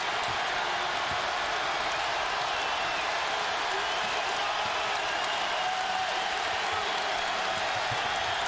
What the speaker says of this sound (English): Crowd starting to get back into it